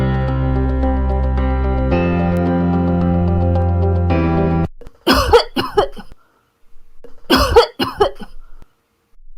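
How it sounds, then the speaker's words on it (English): A sustained harmonic tone gives way to two separate bursts of coughing mixed with throat clearing, close and fairly loud, with a short pause between them. "I have a cough and a chest pain."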